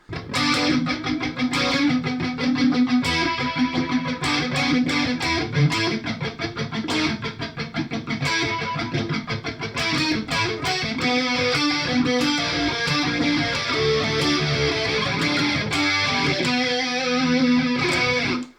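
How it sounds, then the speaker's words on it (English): Distorted electric guitar run through a Hotone Ampero with overdrive and a swirling chorus effect plays a continuous riff of chugging chords and picked notes, loud and upfront. "on FX3 I just put a chorus because, well, why not?"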